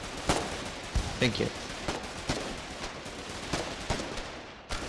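Gunfire in the war game Foxhole: sharp, close shots fired singly and in short bursts at irregular intervals, with a voice speaking briefly over the shooting.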